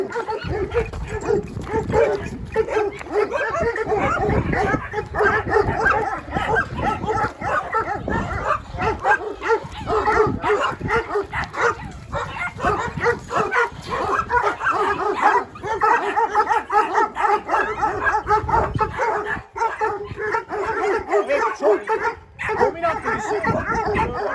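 A female Kangal dog barks, yips and whimpers up close in a long restless run of sounds, with a person's voice audible at times.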